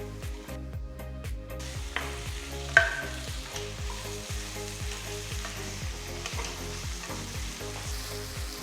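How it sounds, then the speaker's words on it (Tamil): Finely chopped tomatoes fry in hot oil with onion and ginger-garlic paste for a Chettinad pepper chicken masala, giving a steady close sizzle with regular scraping stirs and a sharp clink of the utensil. "அடுத்து 3 பொடியா நறுக்கின தக்காளி போட்டு கிண்டுங்க."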